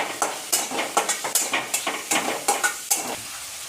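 Finely chopped onion sautéing in coconut oil for Kerala kadala curry, stirred with a spoon that scrapes and clinks against the pan in a quick, regular rhythm over a soft sizzle, close and alone.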